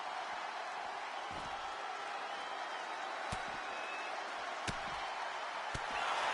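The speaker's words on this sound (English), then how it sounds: "What a raucous crowd here tonight." Raucous crowd at a BCW wrestling event, a steady dense roar of cheering and noise throughout, with a few sharp slams or impacts cutting through near the end.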